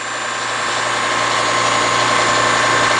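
The electric motor of a CO2 (R744) refrigeration compressor runs steadily, a loud continuous mechanical hum and whine with no pauses or speech.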